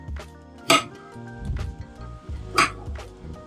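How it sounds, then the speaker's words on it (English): Big hunks of cut food are tossed into a pan for a quiche meal prep, landing with two distinct clattering clinks against the metal amid softer handling noises nearby. "I cut it into big hunks like this and just throw them in the pan"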